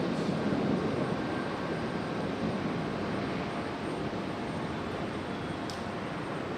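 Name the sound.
Aeromexico airliner taxiing out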